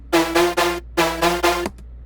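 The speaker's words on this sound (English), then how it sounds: "I went ahead and dragged in the cymatics brass shot" A Cymatics brass shot sample played through a synth oscillator, dropped two semitones and raised an octave, sounds as six bright brassy stabs in two groups of three, loud and close with no one talking.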